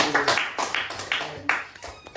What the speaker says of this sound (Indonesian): Tepuk tangan Mas Budi